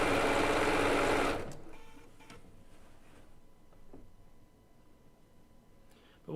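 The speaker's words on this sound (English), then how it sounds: "It's just using a straight stitch to stitch binding down." A Bernina B990 sewing machine runs a straight stitch to sew quilt binding down, a loud steady mechanical whir for about the first second and a half before it stops, leaving faint room noise and small handling clicks.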